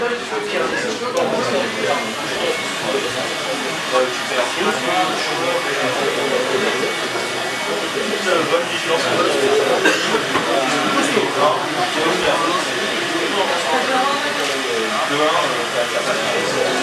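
A heat gun heating cosplay foam armour blows a steady, loud, broadband hiss of air that runs unbroken throughout, with rustling handling noise underneath.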